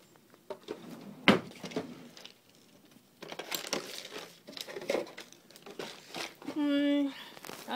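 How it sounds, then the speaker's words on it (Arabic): Plastic bag crinkling as saffron DNA extraction samples are packed into a single bag in a lab, with sharp rustles and crumples coming in irregular bursts, plus a brief tonal beep near the end. "هحطها كله في كيس واحد"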